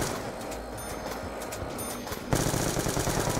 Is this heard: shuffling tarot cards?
no